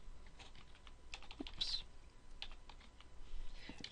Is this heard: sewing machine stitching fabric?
no